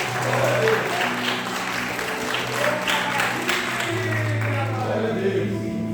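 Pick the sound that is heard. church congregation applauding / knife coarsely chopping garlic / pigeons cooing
church congregation applauding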